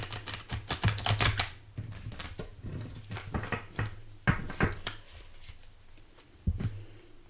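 A deck of oracle cards being shuffled by hand in a series of quick papery riffles and taps, close and fairly quiet, with pauses between bursts and a low steady hum underneath.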